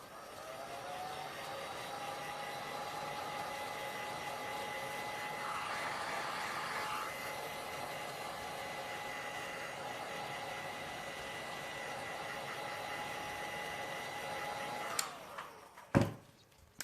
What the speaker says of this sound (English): I might just heat it up a little bit, just with my heat gun,